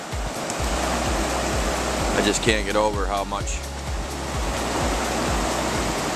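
High river water rushing over bedrock in a steady, dense roar throughout, with someone speaking briefly over it partway through.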